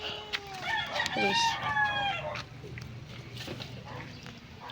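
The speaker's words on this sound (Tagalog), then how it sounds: "May manok pa doon" A chicken gives a loud, close harmonic crow and clucking calls lasting about two seconds, followed by quieter farmyard background, with someone briefly speaking.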